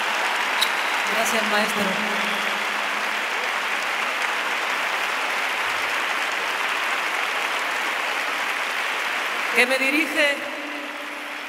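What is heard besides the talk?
stadium concert audience applauding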